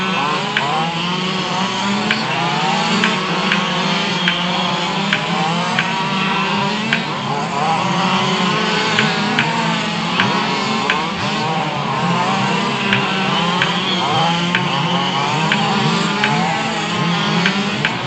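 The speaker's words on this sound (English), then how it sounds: "It sounds like her motor's out of tune." A race car engine that is running out of tune roars continuously at The Barn Raceway, loud and close, with its pitch rising and falling as it laps the track over about eighteen seconds.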